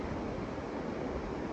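A high river rushing along a hiking trail after heavy rain, a steady broadband roar of flowing water close by, unbroken and loud throughout with no voices.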